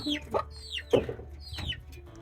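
A hen clucks close by in a few short, throaty bursts with higher squawking notes, a little restless and irregular.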